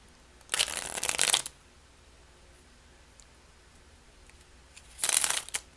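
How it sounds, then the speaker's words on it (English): A White Sage Tarot deck is shuffled by hand in two separate bursts of riffling card noise, close and crisp, each lasting about a second, with quiet room between them. "Now let's shuffle it."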